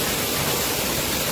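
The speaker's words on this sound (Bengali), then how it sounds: "আমরা হাঁটতে হাঁটতে চলে এসেছি ঝর্ণার পাশে।" A waterfall beside the mountain trekking path to Kedarnath, a close, loud, unbroken roar of rushing water that fills the whole moment evenly.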